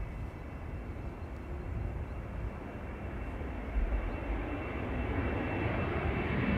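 KLM Embraer jet airliner at Amsterdam Schiphol Airport, a continuous broad engine roar held at a steady moderate level, slightly distant and building gently toward the end.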